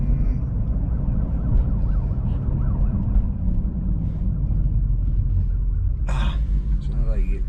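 A police car siren wails in a rising and falling pattern, faint and distant at first under a steady low road rumble, with a brief louder burst near the end.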